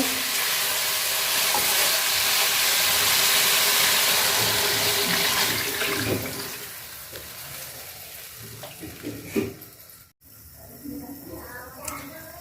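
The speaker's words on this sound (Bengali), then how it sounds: "তো এখন আমি ঝোলের পানি দিয়ে দিব।" Water poured into a pan of sizzling cauliflower curry, where a loud steady fry and hiss gives way to bubbling, splashing and a few knocks of utensils, heard close up.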